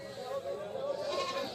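Goats bleat at a crowded goat market, a wavering bleat rising over the busy murmur of people talking nearby.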